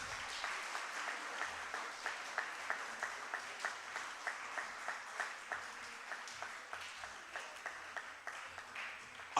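An audience at a medical conference claps steadily in a room, a moderate even patter of many hands with faint rhythmic pulses, carrying on without a break.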